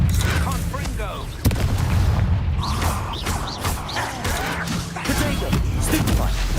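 Blasting spell explosions in Hogwarts Legacy: repeated booming impacts and crashes within busy combat sounds, with voices calling out during the fight.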